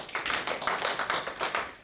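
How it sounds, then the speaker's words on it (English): An audience claps at a live AI startup pitch finale event, a dense burst of many hands sounding in several close waves over about two seconds with no talking. "I want y'all to give them a big old 3 claps."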